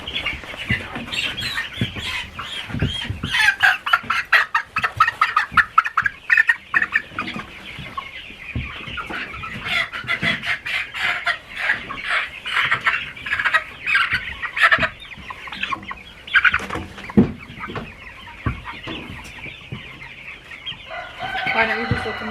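Chickens and a rooster cluck and squawk close by on a Maine farm as they are crated one by one for the coop, busy agitated calls with flapping and handling noises throughout.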